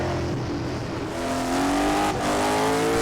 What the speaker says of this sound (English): you hear him feathering that throttle there